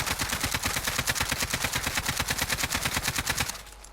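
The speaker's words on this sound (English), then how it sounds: "this is what the AK-47 recoil pattern is like for the Modern Warfare without the Cronus Zen" Rapid sustained automatic AK-47 fire from Modern Warfare, a fast even stream of close, loud shots for about three and a half seconds before cutting off abruptly.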